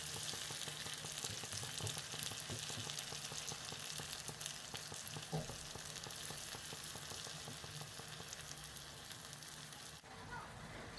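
Green pepper, onion and peeled tomatoes fry in a pan with a steady, close crackling sizzle that continues throughout, soft and even, with occasional stirring clatter and no talking.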